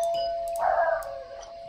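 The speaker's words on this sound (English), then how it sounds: "There's a doorbell that just got brought up." A doorbell gives a single ding-dong chime indoors, fairly clear against a quiet background.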